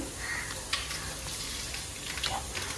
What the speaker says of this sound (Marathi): अगोदर त्याच्या तेलामध्ये खडे मसाले टाकून घेतले.